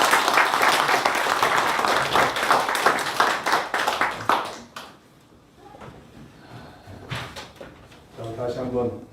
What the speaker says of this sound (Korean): 박수를 드립니다